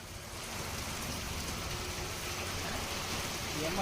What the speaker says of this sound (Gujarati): દરિયાકાંઠાના ગામોમાં વરસાદ વરસી રહ્યો છે